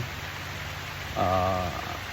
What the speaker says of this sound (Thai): ตกได้ตกดีนะฝน